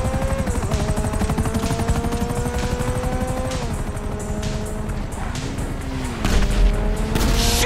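Helicopter in GTA V, a loud close rotor chop pulsing rapidly and continuously, with engine whine shifting pitch and a few thuds and crashes toward the end.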